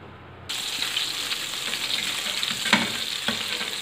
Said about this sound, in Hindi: बड़ा पैन मैंने इसलिए लिया है कि सारी एक साथ ही हो जाएंगी फ्राई।